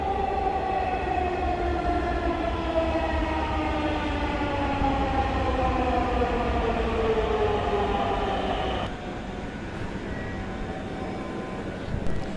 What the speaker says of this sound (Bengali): এই ট্রেন ইতিমধ্যে চলে এসেছে স্টেশনে মতিঝিল থেকে এই ট্রেনটি এখন উত্তরার দিকে যাবে এবং কারওয়ান বাজার স্টেশনে প্রবেশ করছে যাত্রী ওঠা নামার জন্য